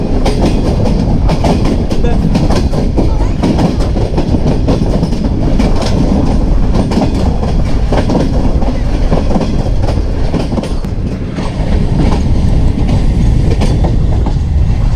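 A Green Line passenger train with a business class carriage runs on rails, a continuous loud rumble with rhythmic clickety-clack of wheels over joints heard from on board throughout.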